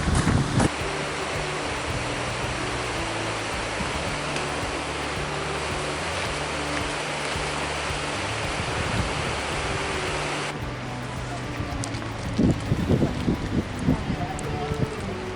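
Strong wind near Byron Glacier, Alaska, roars as a steady, loud rushing buffet across the microphone, easing slightly toward the end, with brief rustling bumps late on.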